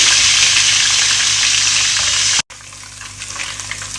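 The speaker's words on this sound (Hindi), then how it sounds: "और इसको 3 सेकंड के लिए हम अच्छे से फ्राई कर लेंगे।" A steady, loud sizzle of garlic-ginger paste frying in a hot pan, briefly cut off near the middle, then resuming slightly quieter with crackling.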